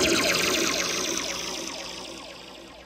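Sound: Korg K-Oscillator Pro XY synthesizer swelling trippy effect

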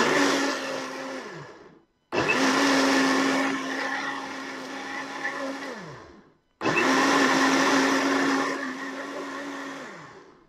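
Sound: electric blender blending orange and beetroot

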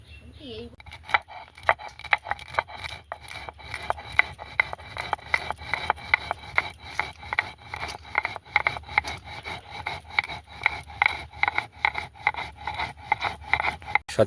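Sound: spices being ground by hand for chow mein

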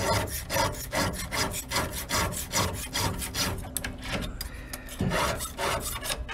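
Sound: hand file sharpening a chainsaw chain

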